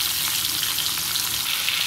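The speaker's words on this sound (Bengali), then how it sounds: "মাছের মাথাটা তেলের মধ্যে দিয়ে বেশ ভালোভাবে এক পিঠ লাল করে ভেজে নেব" A rohu fish head fries in hot white oil, a loud, dense crackling sizzle heard up close and steady throughout.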